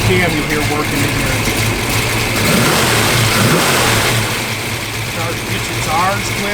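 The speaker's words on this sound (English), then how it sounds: "Nice little cam you hear working in here." A 1965 Ford Mustang Fastback V8 with a performance cam revs and lopes at a steady idle nearby, its rumble continuous throughout while people talk over it.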